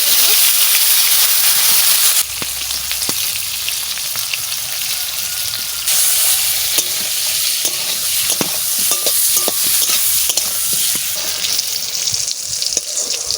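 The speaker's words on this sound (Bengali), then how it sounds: "প্রথমে বেগুন কটা একটু ভাজা করে নেব" Steady loud sizzling of eggplant frying in hot oil, with scraping and stirring clicks throughout and a brief shift in the hiss partway through.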